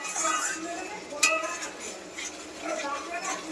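A spice masala with turmeric, salt and whole green chillies is stirred in a pan, with repeated metallic scrapes and clinks of a spoon against the pan under a light sizzle and faint talk.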